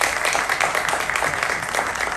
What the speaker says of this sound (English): Another round of applause for Felicia, please